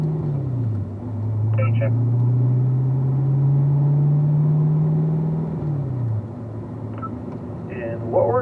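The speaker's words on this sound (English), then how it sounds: "as we're accelerating out onto the racetrack, start working your way through the gears." A race car accelerates out onto the racetrack at Ron Fellows, working up through the gears. A loud droning engine tone swells and holds, then drops near the end as a gear changes, with a brief spoken word over it.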